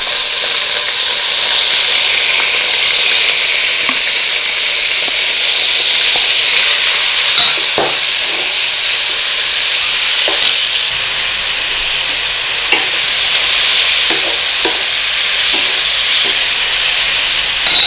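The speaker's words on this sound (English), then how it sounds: "Get your lamb out of there, and we're going to sear all the lamb" Lamb sears in a hot pan with a loud, constant sizzle and hiss, broken by occasional sharp pops and clicks of the meat being moved.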